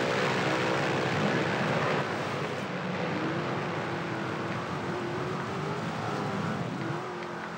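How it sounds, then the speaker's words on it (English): Propeller airplane droning overhead in Forza Horizon 2, a loud, steady engine hum with a slowly shifting pitch, layered with a car engine running beneath it, no talk. "Oh, right underneath the airplane."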